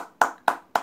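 Three crisp hand claps, evenly spaced in a quick rhythm, close and clear with nothing else around them.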